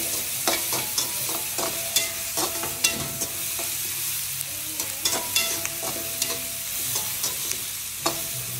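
Onions sauté in a pan for a prawn dish, a constant close sizzle punctuated by regular scrapes and taps of a spatula stirring, with no talk.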